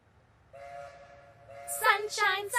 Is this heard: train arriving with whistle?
yes